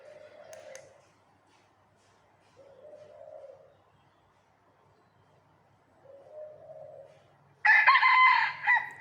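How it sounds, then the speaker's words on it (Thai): A junglefowl rooster crows several times in a row, each call separated by brief pauses, with a louder, harsher burst of sound at the end. "เสียงไก่ก็สิมีอยู่ประมาณในสี่หาเสียงครับ เสียงละชั่วโมง"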